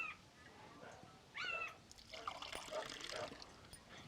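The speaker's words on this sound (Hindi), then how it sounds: "अब पानी जो है इसमें से आ गया छन करके।" Water trickles out of a clay pot filter in a faint, steady dribble, joined by a few brief higher-pitched chirps and splashy bursts.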